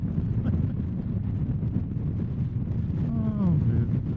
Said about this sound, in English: I'm having to lean this way to fight that wind